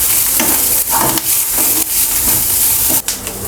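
Grated ginger hits frying garlic in a hot pan, giving a loud, steady sizzle with bursts of stirring and scraping, close up and continuous.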